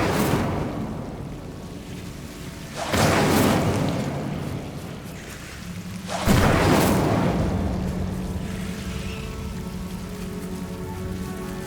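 A fire spell cast in Hogwarts Legacy erupts twice as loud whooshing, crackling bursts over a steady rain-like ambient wash, each burst swelling and then fading into a low lingering hum.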